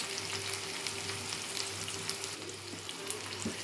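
Dried red chillies and onion pieces frying in a pan for a tempering, giving a close, steady sizzle with soft stirring and a faint background hum, continuous and unbroken by speech.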